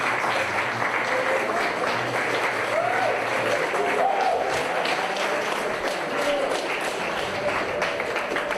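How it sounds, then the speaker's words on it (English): A yeshiva crowd at a year-end celebration applauds for a rabbi, a loud continuous wash of clapping with some cheers and voices mixed in throughout. "Let's all stand up and give a round of applause to Rav Tuvia."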